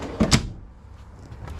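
A kitchen drawer in a 2016 Winnebago Itasca Viva 23L motorhome slides and knocks shut with two quick wooden clunks, then a faint rattle in a quiet room.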